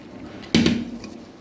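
Metal pot lifted down off a gas stove, giving a single sharp clank of metal on metal with a brief ringing tail, alone in a quiet kitchen.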